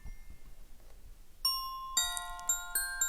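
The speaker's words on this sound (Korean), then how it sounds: "바로 그때 새벽 1시를 알리는 시계 종소리가 들렸어요." A clock bell strikes one o'clock as a storybook sound effect, a bright ringing tone with several quick chiming hits layered over one another, clear and alone with no voice.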